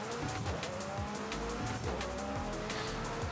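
Race cars in a Forza Horizon 5 street race, engines revving and shifting continuously, with tires squealing and skidding through corners, with no talk over it.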